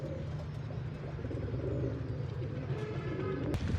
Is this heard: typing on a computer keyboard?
no